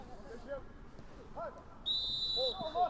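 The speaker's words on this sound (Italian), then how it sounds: "Fallo in attacco, fischiato a Dobrin che non la prende bene" A referee's whistle sounds one sharp, sustained blast to call an attacking foul during a football match, heard fairly clearly over a commentator's voice.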